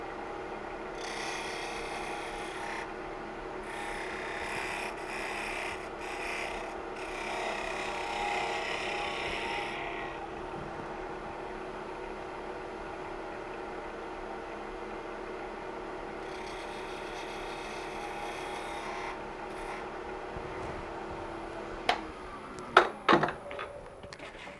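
A woodturning tool cuts a small bead into spinning wood on a lathe, a steady rough rasping hum with shifting scraping textures, ending in a few sharp knocks.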